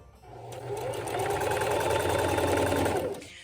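A sewing machine stitching cloth napkins with a long stitch length, running in one steady whirring, rhythmic burst of about three seconds that ramps up and stops, close and alone without talk.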